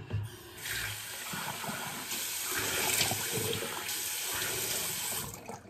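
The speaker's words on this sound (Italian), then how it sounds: "sciacquata con acqua fredda" Cold tap water runs into a sink to rinse after a shave, a steady close splashing gush that shifts in loudness as hands move through the stream, with no talking.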